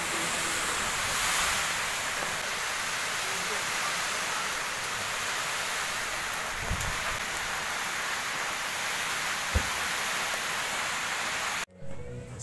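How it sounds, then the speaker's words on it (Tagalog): Steady, dense hiss of heavy rain fills the whole stretch, loud and constant, with a couple of brief thumps near the end before it cuts off. "So yan, lumakas na yung ulan."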